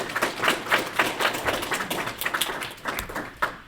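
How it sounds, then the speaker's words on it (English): A small group clapping in quick, uneven bursts for a few seconds, moderately loud and close, with no talk over it. "Clap it up."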